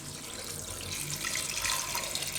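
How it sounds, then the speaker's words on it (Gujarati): Water pours steadily into a pressure cooker holding whole bitter gourds in a home kitchen, a continuous close splashing rush that grows slightly louder over its short length, with no talking. "તો આને આપણે પાણી નાખી દઉં આમાં"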